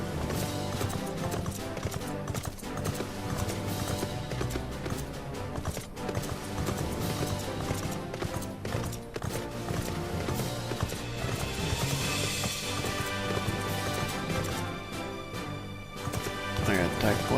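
A horse mount gallops in Final Fantasy XIV Stormblood, with rhythmic clip-clop hoofbeats layered under game music and ambience, loud and continuous.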